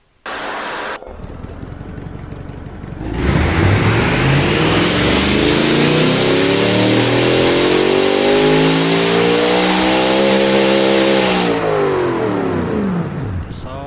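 A car engine built in an engine-building game starts up and revs loudly and steadily, its pitch climbing and holding at a high whine for several seconds before easing back down.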